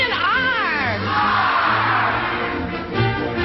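Cheerleaders on a 1981 daytime TV game show shout a chant together, a loud crowd of young voices rising and falling in a sung cheer over studio crowd noise for a few seconds.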